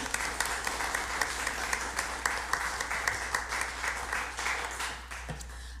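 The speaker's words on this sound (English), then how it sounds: "So I just want to give them another round of applause." A room at an Arkansas education charter panel meeting fills with steady applause for charter school Hall of Famers, a dense patter of many hands clapping at a constant level before tapering off near the end.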